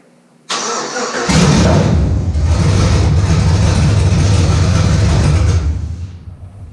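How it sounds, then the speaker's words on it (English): A Chevrolet C10 with a swapped 5.3L LS V8 cranks briefly, then fires up and settles into a loud, rumbling idle for several seconds before cutting off. "Alright, so we're gonna start this up."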